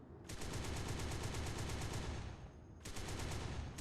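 Rapid automatic gunfire from turrets in Space Engineers rattles in a long continuous burst, stops briefly, then resumes with another fast burst, fairly quiet in the mix.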